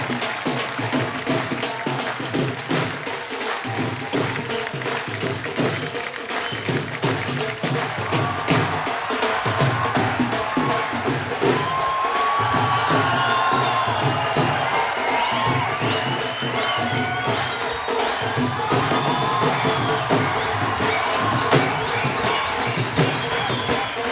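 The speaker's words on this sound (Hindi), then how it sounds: "जोरदार तालियों से एक बार स्वागत कीजिए।" Applause and cheering from a studio audience at a comedy talk show, a sustained dense wash of clapping and crowd noise that swells slightly midway and carries on steadily throughout.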